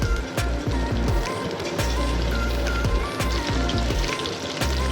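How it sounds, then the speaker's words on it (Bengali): Chicken pieces frying in hot oil with a dense, continuous crackling sizzle and scattered pops, loud and close throughout with no talking. "এইভাবে চিকেনগুলো ভেজে নিচ্ছি।"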